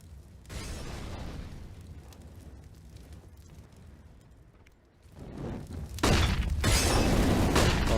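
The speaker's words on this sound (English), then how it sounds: "Molotov clearing the sandbags." A Molotov cocktail bursts onto sandbags on the Vertigo map in Counter-Strike, with a loud shattering whoosh early on and a second heavy roaring burst of flame near the end, over steady game ambience.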